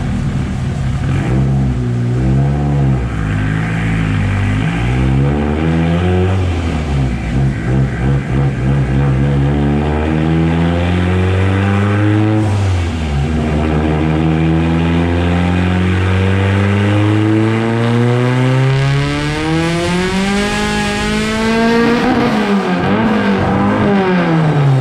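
Turbocharged 4G64 engine in an Evo 8 on 22 psi boost, revving repeatedly up to the fuel cut, loud and close, with rising engine pitch sweeps and stuttering limiter cuts, no voices.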